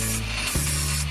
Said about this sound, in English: Next, we want to grind or machine a bevel onto both ends of our cut crush tube.